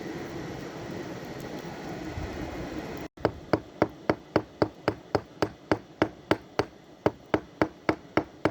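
A hammer striking a nail used as a punch, delivering a steady series of about twenty sharp metallic taps at an even rhythm, close and clear after a brief background hum.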